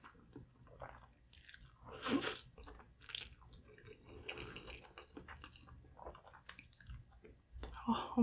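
Chewing and eating a giant pizza slice: close, crunchy bites and wet mastication in irregular bursts, with a few louder crunches and brief quiet stretches between.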